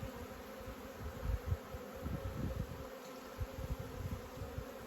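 Honey bees buzz around a hive after a swarm escaped, a steady drone of many insects with close passes swelling and fading in loudness, no talking.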